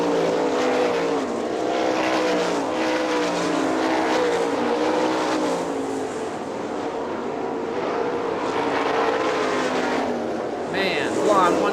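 410 sprint cars race at Hartford Speedway in Michigan, a continuous dense roar of several engines circling the oval, fairly distant and fluctuating, with a race announcer talking over it.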